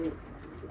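Zuritero pigeon cooing from a balcony, a short low soft coo, fairly quiet and steady.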